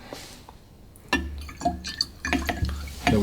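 Liquid poured out of a whisky tasting glass, splashing and trickling in uneven bursts with small glassy clinks, close and fairly loud.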